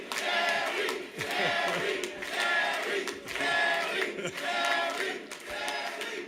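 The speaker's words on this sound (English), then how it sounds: "Give yourselves a great round of applause." A crowd of supporters at a primary victory event cheers and applauds in swelling waves of loud, dense noise, with shouts rising above a continuous wash of clapping.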